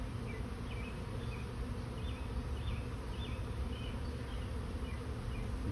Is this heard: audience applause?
no